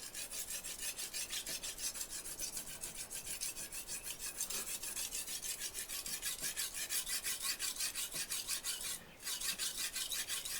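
A kitchen knife drawn over a brick makes rhythmic, close rasping strokes that repeat steadily, with a brief pause near the end and no voices.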